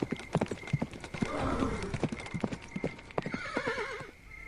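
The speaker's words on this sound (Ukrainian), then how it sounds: "Інгвар гнав свого коня щодуху" A galloping horse pounds out a quick, rhythmic clip-clop of hooves, close and clear, broken by loud whinnies partway through and again near the end.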